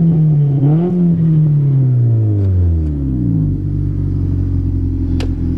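A 1990 Honda Civic engine on a test drive revs and then drops back to a low rumbling drone, close and loud, with no talking.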